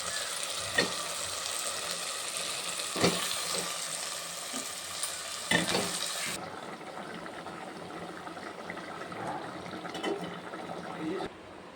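Fish pieces sizzle steadily in hot oil in a pan, a continuous broadband frying hiss with a few louder spits and stirring clatters near the start, then settling into an even, close sizzle.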